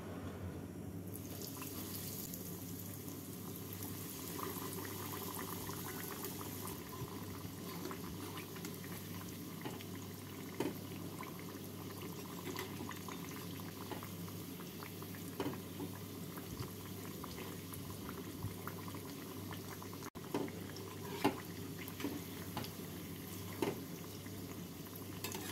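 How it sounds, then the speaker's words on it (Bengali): Paneer and prawn chops fry in hot oil over a medium gas flame, giving a steady, close sizzle and bubbling that runs throughout with occasional small pops and clicks. "এবার গ্যাসটাকে মিডিয়াম ফ্লেমে রেখে চপগুলোকে দিয়ে উল্টে পাল্টে"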